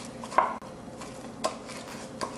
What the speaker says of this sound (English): You add a little bit more laundry detergent and you stir again.